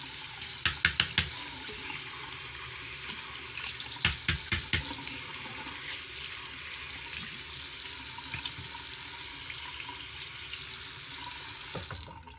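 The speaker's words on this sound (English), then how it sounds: "Or you could just go straight to rinsing it off, because it is waterproof. So you just rinse it off." A waterproof bald head shaver is rinsed under a running tap. A steady, close rush of water fills a sink, with a few quick clicks and taps of the shaver near the start and middle. The water stops at the end.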